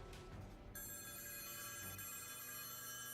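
Several office phones in Goddess of Victory: Nikke ring at once, a bright, dense electronic trill that bursts in after a brief lead-in and holds steady and loud throughout, with no voices.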